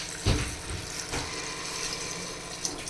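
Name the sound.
water poured into rice for pavta masale bhat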